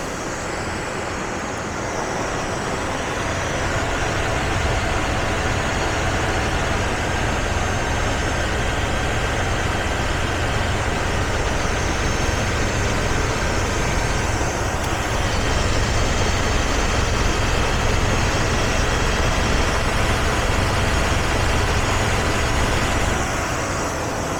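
A V8 engine runs steadily with a constant low hum and faint grinding undertone, a continuous drone close by that holds even for the whole stretch with no talking.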